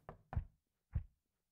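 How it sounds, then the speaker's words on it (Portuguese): Three dull knocks on a door in a horror video game: two quick raps, a short pause, then a single knock, each soft and somewhat muffled against near silence. "Quem está batendo? Uh, eles não podem me deixar sozinha? alguém na porta."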